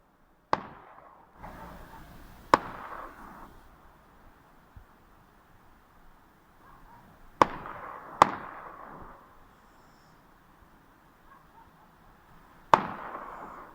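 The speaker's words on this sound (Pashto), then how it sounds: "دا د تماچې د کلاشنکوف ډزې پکې واورئ" Pistol and Kalashnikov rifle gunfire rings out outdoors as about five sharp, loud single shots spaced irregularly, each trailed by a long rolling echo, with no voices.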